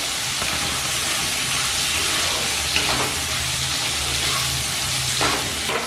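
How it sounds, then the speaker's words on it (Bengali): Boiled snake gourd with turmeric fries in a pan over a medium-to-high flame, giving a steady, close sizzling hiss with a few brief stirring sounds and no talking. "ফ্লেম মিডিয়াম টু হাইতে রেখে একটু ভাজা করে নিচ্ছি"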